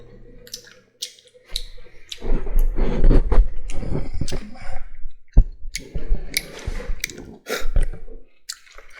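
Gum being chewed close to the mic, with wet clicks and squishy smacks in an irregular rhythm, some bursts louder than others, alongside faint tapping and scratching from drawing.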